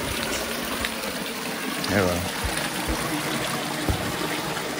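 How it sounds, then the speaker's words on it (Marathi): Spring water flows steadily beside a temple, a constant close trickling rush running throughout, with a brief voice speaking over it. "हा असा झरा आहे"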